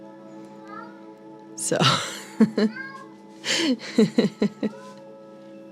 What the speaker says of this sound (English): if you hear weird cat noises in the background